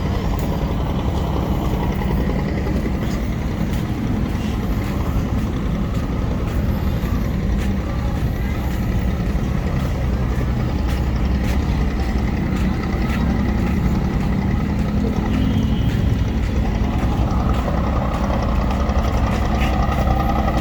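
A ferryboat's heavy engine rumbles and idles steadily at a dock on a Pasig canal, loud and continuous throughout with no talk over it.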